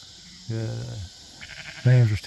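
Sheep bleat twice, close and loud: ewes and lambs grazing together on a sorghum-sudan pasture, a short cry followed by a longer, stronger one after a brief pause.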